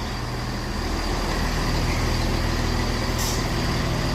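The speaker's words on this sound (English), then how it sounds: "this Chiltern Railways Class 168 arrives into Leamington Spa now with the 1300 service to Birmingham Snow Hill from London Marylebone" A four-car Chiltern Railways Class 168 Turbostar diesel unit pulls into Leamington Spa station with a loud, close, continuous engine drone and rumble, a faint high brake hiss near the end.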